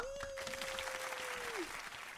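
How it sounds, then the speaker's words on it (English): An audience applauds a guest at a geek fashion show convention event, dense continuous clapping with a sustained tone running beneath it. "Let's have a big round of applause for Douggary Grant"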